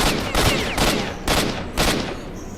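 Automatic rifle fire in the video game S.T.A.L.K.E.R.: Shadow of Chernobyl, several loud close bursts of rapid shots in quick succession, with no talking.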